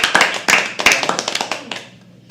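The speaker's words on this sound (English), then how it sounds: "Let's all clap and call her on stage." Audience at a live poetry open mic at The Habitat claps in a quick, scattered burst that tapers off within two seconds, close and fairly loud.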